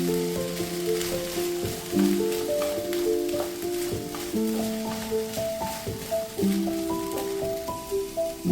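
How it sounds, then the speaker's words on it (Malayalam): Cauliflower tossed into sautéing vegetables for a mixed vegetable curry sizzles and crackles in a pan. The frying stays steady and close, with background music playing underneath. "2 മിനിറ്റ് ഒന്ന് സോട്ട് ചെയ്തതിന് ശേഷം ഇതിൻ്റെ അകത്തേക്ക് നമുക്ക് കോളിഫ്ലവർ ചേർത്ത് കൊടുക്കാവുന്നതാണ്."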